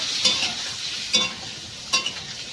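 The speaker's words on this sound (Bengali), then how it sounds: "ডিমগুলোকে আমি ভেজে নেব" Eggs fry in a pan with turmeric and chili powder, a bright continuous sizzle broken by three sharp scraping stirs, close and fairly loud.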